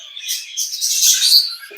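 Small caged birds chirp and tweet busily at close range, a dense run of high, bright calls with no talking.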